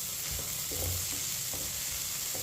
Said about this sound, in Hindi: मिक्स करके 2 मिनट के लिए चम्मच चलाते हुए पका लेंगे